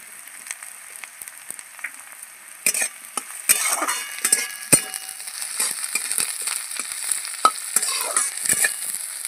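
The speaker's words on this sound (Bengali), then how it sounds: "দিয়ে দিচ্ছি আদা রসুন কোচানো" Ginger-garlic paste fries in a pan while a spatula stirs and scrapes it, giving close, fairly loud clatters and scrapes over a continuous sizzle.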